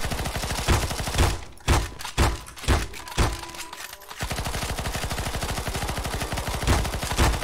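Rapid bursts of gunfire from Counter-Strike: Global Offensive in the zombie escape mod, a sustained automatic rattle broken by several heavy single shots midway, loud and close throughout.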